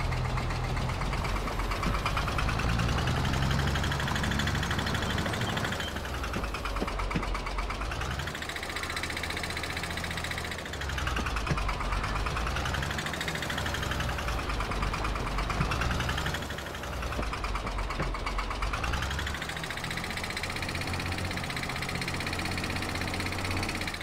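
A tractor engine idles in the Farming Simulator 22 video game, a steady mid-pitched rumble with a rhythmic knocking pulse that swells and dips in slow, regular waves with no talk over it.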